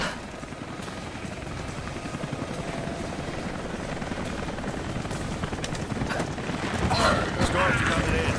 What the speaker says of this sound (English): We'll have to ground the choppers soon.